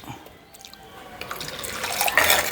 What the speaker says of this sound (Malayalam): മീൻകറിക്ക് ആവശ്യമുള്ള വെള്ളം ഒഴിച്ചു കൊടുക്കും.